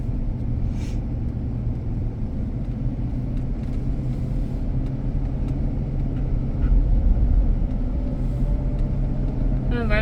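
A 2006 Ford F-150 pickup's engine pulls steadily from inside the cab, a low continuous rumble with road noise that swells slightly as it accelerates.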